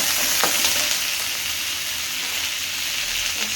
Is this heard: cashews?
yes